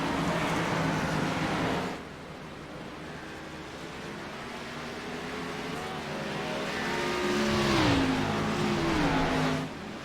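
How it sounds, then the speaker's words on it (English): A race car at The Glen pulls away after being turned around, its engine revving and climbing in pitch through several gear changes as it accelerates, loud and close, then cuts off abruptly. "Gets the car turned around, gets going again."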